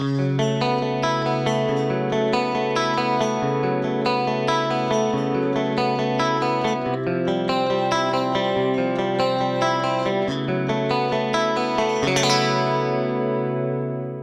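An electric guitar plays a continuous, shimmering 80s-style clean part through a Peavey Addverb 3 rack unit's detuned pitch-shift effect, thickening each note, ending on a bright strum.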